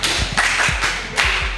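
Junior high school students in a classroom in Ghana's Volta Region clap together in loud, ragged bursts that swell and fade in a few uneven waves, close by.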